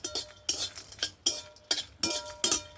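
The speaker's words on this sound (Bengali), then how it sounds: "দিয়ে এবার আমি এগুলো ভালো করে নাড়াচাড়া করবো" Dry red chillies, a cinnamon stick, cloves and cardamom pods stirred in a pan, giving about six separate scraping, clinking strokes of a utensil in a steady rhythm, close and fairly quiet with no one talking.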